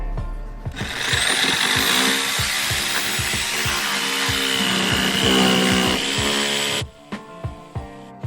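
A power saw cuts deck wood flush against a 2x6 during an old deck repair, a loud continuous whining buzz with rapid rhythmic chatter that runs for several seconds, then stops abruptly, leaving a few short knocks.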